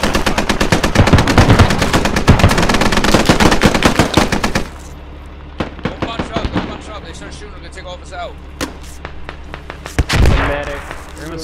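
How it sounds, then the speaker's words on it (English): Automatic rifle fire in the video game Squad comes in rapid, loud bursts that fill the first few seconds. Then scattered single shots and distant pops follow, with a further burst near the end and a voice talking over the shooting. "Hey, I'm firing over here."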